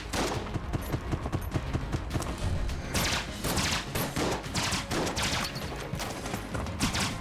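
Gunfire in the bullet-hell video game Enter the Gungeon, a relentless dense barrage of rapid shots and impacts stacking into continuous loud fusillade throughout.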